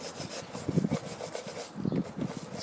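A football boot sole being scrubbed clean, with close, rhythmic rasping brush strokes in two short bursts, fairly quiet and alone.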